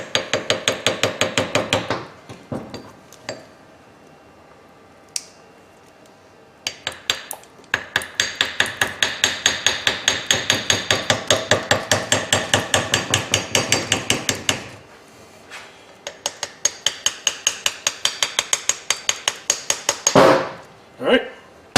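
Light hammer taps on an inner spline while removing a shaft during a Toyota 2.5L 2AR-FE engine install into an MR2 Spyder, coming as bursts of rapid, evenly spaced metallic ticks with short pauses between runs.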